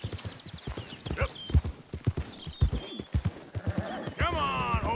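Horses in Red Dead Redemption 2 gallop with rapid, close hoofbeats, then a loud neigh and a drawn-out whinny rise near the end. A voice urges the horses on over the galloping.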